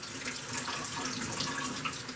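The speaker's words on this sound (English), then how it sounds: "Now, you want to add some water, but you want that water to be like lukewarm." Lukewarm tap water runs into a jar for pizza dough yeast, a soft, steady splashing stream with no other sound.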